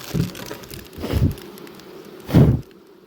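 Bees around a hive, with three separate buzzing passes rising and fading as insects fly close by, over a faint steady background.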